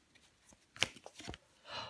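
Tarot cards being laid down and handled on a table, soft close papery slides and taps, with a sharper snap near the middle and a brief shuffling swish at the end, quiet and without speech.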